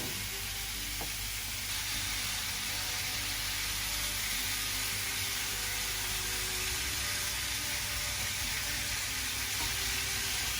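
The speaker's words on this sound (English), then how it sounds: "I'll let the fat from the sausages and the bacon cook the tomatoes" Sausages, bacon and tomatoes frying in a pan, a steady close hiss of sizzling fat that runs without a break, with faint clinks and no talking.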